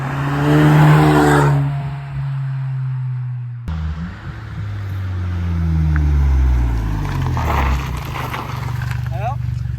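A Volkswagen Golf VII GTI Performance with about 300 hp accelerates hard, engine note climbing through rising revs with a gear-change break, close and loud, while people talk.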